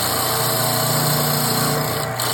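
A wood lathe turns a wet Temple Blackwood goblet with a natural edge, giving a loud, constant whine with a steady hum and no talking.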